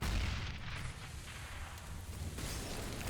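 Grenades burst in a Counter-Strike match on the Cache map during a professional tournament, giving heavy low booms and rumbling explosions that open loudly and then roll on as a dense, steady roar.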